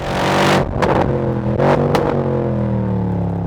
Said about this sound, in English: AMG, you make a proper noisy V8